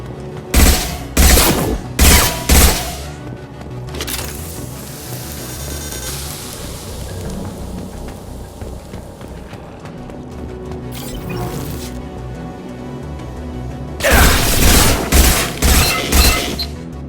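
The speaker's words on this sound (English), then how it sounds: "Taking heavy fire!" Heavy gunfire in Mass Effect 2: dense bursts of rapid shots open the scene, ease into a sustained rumbling battle bed, then return as loud, clustered volleys near the end.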